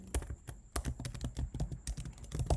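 Rapid keystrokes on a computer keyboard as a folder name is typed, irregular clicky taps at close range with no talking.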